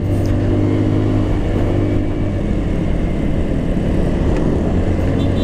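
A stock Easyride 150N scooter-style motorcycle in its break-in period climbs a hill in Rizal carrying a passenger, its engine droning in a steady, loud hum with wind rush and no speech.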